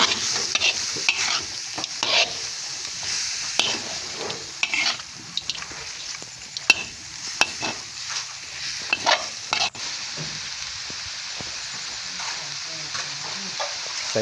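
Rat meat with lemongrass stir-fried in a pan, steady loud sizzling with frequent scraping and clattering stirs throughout, close and continuous.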